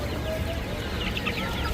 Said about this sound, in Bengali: একটা মোরগ একটা মুরগি।